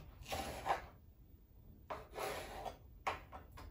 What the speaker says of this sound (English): Here with the cucumber, I'm going to cut it in half to make it safer for slicing later.